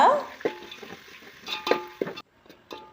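Food frying in a pan while being stirred, giving a steady soft sizzle broken by several louder scraping stirs and clinks, with a short quiet gap near the end.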